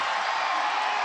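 A basketball crowd in an arena roars and cheers steadily at a women's league game, loud and sustained through the whole moment.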